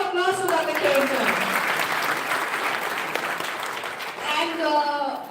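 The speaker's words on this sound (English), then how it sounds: "One big round of applause for Dr. Khedkar." A conference audience gives a sustained round of applause for Dr. Khedkar, dense clapping that swells and fades slightly before building again, with a voice speaking over the start and end.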